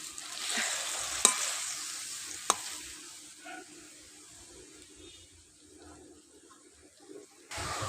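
Spice paste for a pointed gourd curry bubbles and sizzles softly in a pan after water is poured in, with a couple of sharp clinks of a utensil early on, faint and close.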